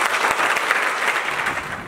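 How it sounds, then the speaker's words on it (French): Short stretch of dense crowd clapping from seated party activists at an entrepreneurship training event in Gabon, continuous and moderately loud for under two seconds. "On s'assoit, camarades, et on applaudit."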